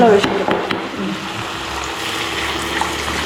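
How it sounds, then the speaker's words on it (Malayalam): Water poured into a cooking pan over a roasting mixture gives a loud, continuous rushing and sizzling wash of sound that lasts throughout, close to the listener. "ഇനി വെള്ളം ഒഴിച്ചു"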